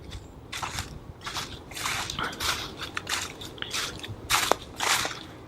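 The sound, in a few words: footsteps walking through crunchy leaves in woods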